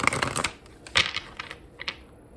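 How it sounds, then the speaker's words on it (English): Tarot cards being shuffled during a love reading, giving a burst of quick papery riffles and taps up close, then a few scattered softer card snaps with pauses between. "I'm going to shuffle this one more time."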